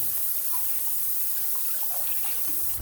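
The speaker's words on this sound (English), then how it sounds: "now that batch is done and I'm automatically draining the water" Water drains steadily from a kitchen sink after a batch of celery is washed, a continuous close rushing and gurgling with no voices.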